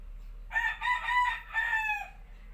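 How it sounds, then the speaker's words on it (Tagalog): A rooster crows loudly and close by, two long drawn-out calls in quick succession, with faint background noise. "Ingay ng manok namin."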